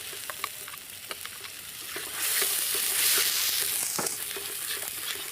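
Pureed fried onions with chilli and ginger paste frying in a pan, a loud close sizzle that swells partway through, with a few stirring scrapes and no voices.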